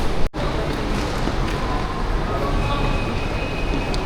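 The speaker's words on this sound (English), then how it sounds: "So we're gonna go board the tram now." Tram in a station in Belgium, a loud steady rumble of rolling rail wheels and motor hum filling the space, sustained throughout after a brief cut near the start.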